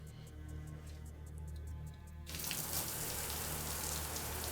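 A shower starts up and water sprays hard at close range, a sudden steady gush that follows a quieter hum with faint ticking.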